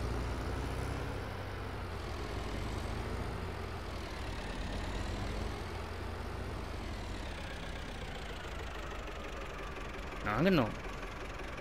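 Engine of the Lizard vehicle being driven in Farming Simulator 22, a steady low mechanical drone running throughout with a brief louder burst near the end, while a person speaks briefly over it.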